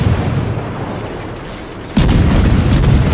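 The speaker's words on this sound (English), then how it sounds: "firing at the enemy Ibuki. Blind firing, so he doesn't know exactly if his shells are hitting or missing" Heavy naval gunfire in World of Warships: a battleship crew blind-firing shells at an enemy Ibuki, sustained booming rumble that jumps abruptly louder midway with a fresh deep salvo, close and dense.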